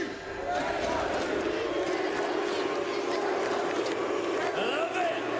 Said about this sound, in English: You want to start an NRG chant right now?